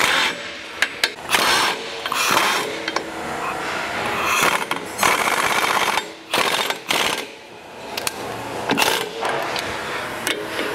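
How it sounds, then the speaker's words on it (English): A wrench tightens bolts on the motor bearing plate of a ProAll Reimer 4000 Series mixer, giving loud, close bursts of metallic ratcheting and clanking in an irregular rhythm, with brief pauses between turns. "Every time I tighten the bolt up"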